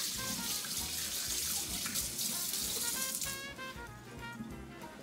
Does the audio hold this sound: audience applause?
no